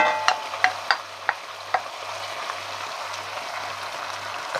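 Onions frying with browned rabbit pieces in a pan give a steady sizzle, with a few sharp clacks from stirring early on and then an even, continuous crackle.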